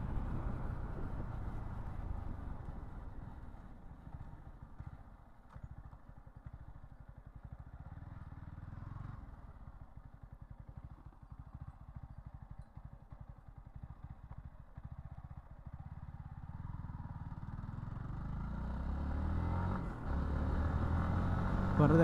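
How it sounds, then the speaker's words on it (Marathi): A Yamaha MT-15 motorcycle ridden on an open road, its engine a steady low drone under heavy wind rush, with no change in pace and a slight rise near the end. "बाईक इथून रिटर्न फिरूया आपण."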